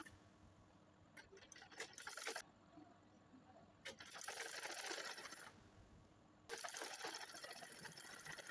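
Sewing machine running chain stitches along the back panel of a layer-cut baby frock, in bursts of fast mechanical whirring separated by short pauses, fairly close.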